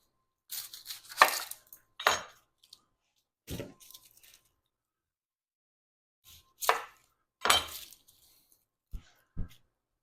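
Knife chopping an onion in a firehouse kitchen, heard as several separate sharp cuts in short bursts with pauses between them, close and fairly clear with no talking.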